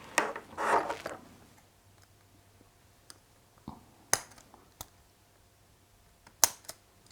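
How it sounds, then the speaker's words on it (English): Small, fairly blunt scissors snip model parts of a Dyson DC25 kit a few times, sharp isolated clicks spaced irregularly in a quiet room after a brief rustle at the start. "Perhaps I should have chosen some sharper scissors before I started this."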